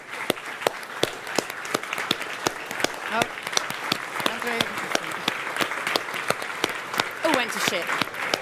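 Audience applause for a team at a welcome keynote, steady dense clapping across the whole stretch with a few sharper claps standing out and voices calling faintly underneath.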